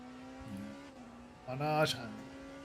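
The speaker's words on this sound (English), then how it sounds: "Continue to watch Christian Bernani then as he chucks the Porsche into the Porsche curves" A Porsche race car in a Le Mans sim racing game threads through the Porsche curves, its engine note droning steadily, then swelling into a brief rising rev before settling, beneath a commentator's talk.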